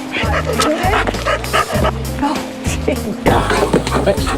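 A police dog barks, yips and whimpers excitedly, close by, in repeated short bursts while people talk nearby.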